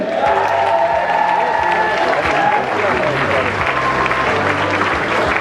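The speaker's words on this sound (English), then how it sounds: "And a nice round of applause for Mrs. Marie Malini." Guests at a wedding reception applaud in a sustained round of clapping and light cheering, a dense, steady crowd sound filling the room with some voices mixed in.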